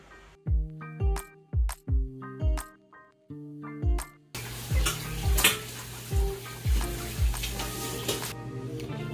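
Zucchini bread batter mixed by hand in a bowl, heard as repeated rhythmic scraping and clinking strokes of a utensil against the bowl, close and clear, with a wetter, denser stirring texture in the second half.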